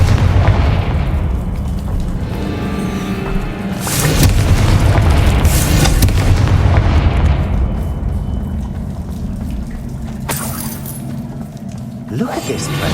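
The Confringo spell in the video game Hogwarts Legacy sets off heavy, booming explosions in bursts, the loudest rolling roughly in the middle, with crackling debris after, and a voice speaks between them.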